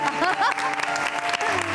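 Studio audience applause on a television entertainment show, a short burst of clapping with brief voices mixed in underneath.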